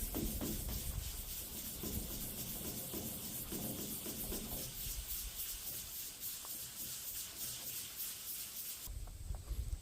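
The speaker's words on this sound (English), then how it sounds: "before we get too much further with the sanding" Sandpaper works over scratches on the body panel of a Ram 2500 Mega Cab pickup, making a close, continuous rough rubbing hiss with uneven strokes that stops abruptly near the end.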